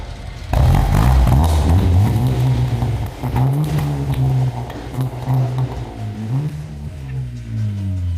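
A BMW car engine idles roughly, then revs up and down several times, loud and close, with a throaty rising and falling pitch.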